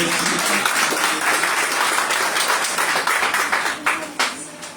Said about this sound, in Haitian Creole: Applaudis pour nous, s'il vous plaît